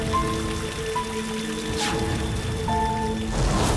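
Heavy rain falling steadily on surfaces, a dense continuous patter heard close up throughout the short stretch, with faint tonal background sounds and no talking.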